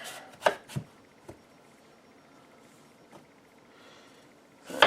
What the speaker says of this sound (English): Let's chopping this up.